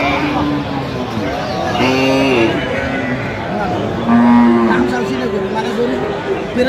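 A dairy cow with her calf lows several times, with drawn-out moos rising and falling, at the busy Aftabganj cattle market, where crowd chatter and talking voices run steadily underneath.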